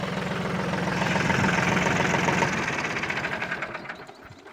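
A tractor engine idles with a steady rhythmic knocking chug, fairly loud and close, gradually settling and slowing toward the end.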